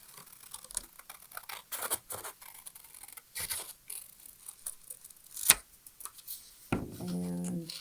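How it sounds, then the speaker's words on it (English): Scissors snip through paper while cutting out craft pieces, giving a series of short, crisp, scratchy cuts at an uneven pace up close, with a few louder rustles in between. "you're going to have to watch me cut things out."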